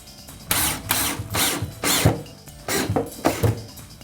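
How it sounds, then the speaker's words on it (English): Power drill driving a drywall screw into a wooden cabinet, in a series of about seven short whirring bursts with brief pauses between, close and loud, no talk. "Today I'm just going to use a drywall screw to fasten it up."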